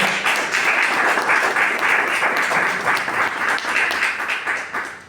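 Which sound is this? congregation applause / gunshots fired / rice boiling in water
congregation applause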